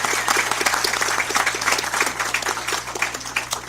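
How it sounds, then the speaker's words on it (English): Audience applause at a Calexico Unified School District meeting, dense clapping from a room of people sustained steadily throughout with individual claps audible, fairly close and loud. "Let's give Mays another big round of applause."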